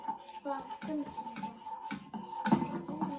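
A spoon stirs an edible slime mixture in a bowl, with repeated light scraping and clinking strokes against the bowl at close range and children's voices in the background.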